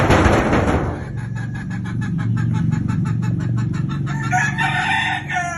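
A Bulik rooster of the Nene Aguilar gamefowl line crows loudly and close at a rooster farm, one long drawn-out crow following a burst of noise at the start, with a second bird faintly heard near the end.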